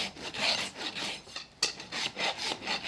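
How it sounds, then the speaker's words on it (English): A farrier's rasp files a horse's hoof level in a stable yard, making steady, close back-and-forth rasping strokes in a continuous rhythm with one brief pause. "I just want to rasp it nice and level"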